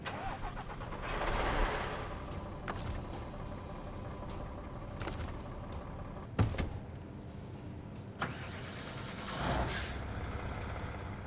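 A heavy truck engine in the game SnowRunner rumbles steadily, with a few sharp hissing bursts like air brakes breaking through the continuous drone.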